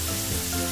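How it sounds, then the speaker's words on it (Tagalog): Carrots and potatoes frying in a pan, giving a steady, close sizzle with a faint stirring scrape, with no talk over it. "Hintayin lang po natin maprito yung carrots saka yung patatas natin."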